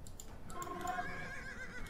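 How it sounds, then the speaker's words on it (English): A horse whinnies in a real-time strategy game soundscape, a drawn-out, wavering neigh rising over low background ambience, with no talking. "There's two horses here."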